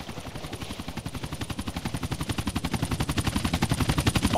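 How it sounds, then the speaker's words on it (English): Rapid, steady rotor thumping of a helicopter arriving in GTA San Andreas, loud and close, growing slightly louder over a few seconds, with no talk. "Chopper inbound!"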